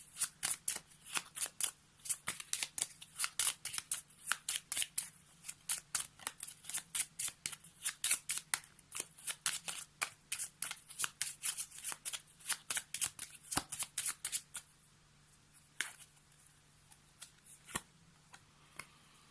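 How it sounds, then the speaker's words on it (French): Tarot cards being shuffled in rapid riffling bursts for about fifteen seconds, then a few separate snaps as cards are drawn; close and crisp with no talking. "On va prendre une autre carte pour avoir un petit peu plus d'informations par rapport à ça."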